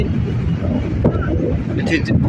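Wind gusts roughly across the microphone at Puri beach by the sea, a brief blustery rush heard under a person talking.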